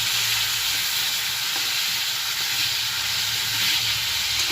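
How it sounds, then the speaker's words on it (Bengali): Slices of pointed gourd (potol) fry in a pan at a home kitchen, a steady close sizzle and hiss running unbroken throughout with faint stirring, no voices. "এই যে পটল বসিয়ে দিয়েছি ভাজা"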